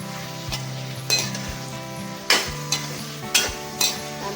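Chopped tomatoes added to spices frying in a pan, steady sizzle with repeated scraping stirs and clinks of a spoon against the pan, close and without talk.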